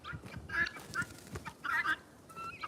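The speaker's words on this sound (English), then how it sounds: "There's the birds warming up in the sun." Fowl calling in bursts of throaty, gobbling cries while sunning on a windy, chilly day, against a breezy outdoor background, fairly close and moderately loud.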